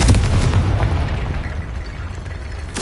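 A Confringo spell blast in the Hogwarts Legacy video game lands as a loud, booming explosion that rumbles and fades over a few seconds, with a sharp crack at the end.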